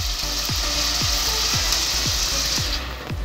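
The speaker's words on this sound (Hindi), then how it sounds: "गोश्त भी अच्छे से अदरक लहसुन और तेल में अच्छे से फ्राई हो जाएगा" Beef frying in oil with ginger and garlic, a loud, steady sizzle carrying a regular pulse of stirring strokes roughly twice a second, close and continuous, no voices.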